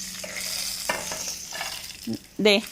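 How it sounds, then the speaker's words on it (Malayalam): Dried coconut pieces sizzle and hiss steadily in hot frying oil while being stirred, with a few louder scraping clatters of the spoon against the pan near the end. "കൊപ്ര, അതിട്ടിട്ട് ഇതുപോലെ ഒന്ന് ഇളക്കി കൊടുക്കും"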